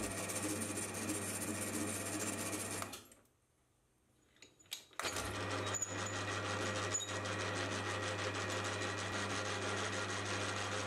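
Lathe cutting a die holder part, a steady mechanical hum with a low tonal drone that drops out briefly for about two seconds, then resumes with faint tool clicks.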